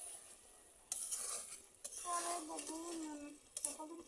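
Small fish being stirred with chili paste in a frying pan, with repeated scraping and clinking strokes and a soft sizzle that starts after a quiet opening and recurs in short bursts close by.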